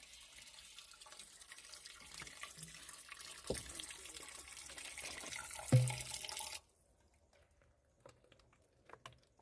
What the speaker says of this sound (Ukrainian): Водичка смачна, прохолодна, джерельна, тече з гір.